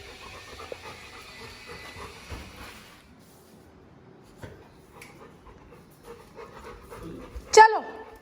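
A dog panting outside at a farmhouse, soft rapid breaths heard faintly and close amid quiet background noise, with a brief sharper sound near the end.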